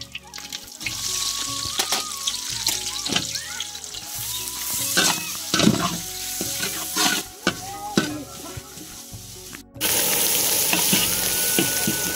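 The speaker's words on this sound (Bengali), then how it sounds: "এখন আমরা পেঁয়াজ কুচিটা ঢেলে দেবো।" Chopped onion goes into hot oil already tempered with dried red chilli and bay leaf for dal, with stirring clatter over a steady sizzle that swells into a loud, dense frying hiss near the end.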